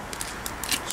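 Scissors snip thick cotton towel cloth into small chunks for char cloth, a quick run of crisp cuts close by and fairly loud.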